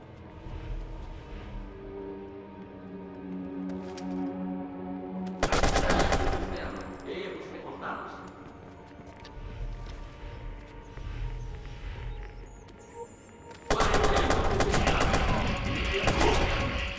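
Sustained automatic gunfire bursts loud and close in Watch Dogs, two long rapid-fire volleys separated by quieter gameplay sounds with a droning tonal hum in between.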